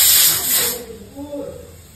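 Steam hissing from a pressure cooker while chickpeas cook, a loud close spray of hiss in the first moment that fades out within a second, leaving a quiet room with a faint voice-like murmur.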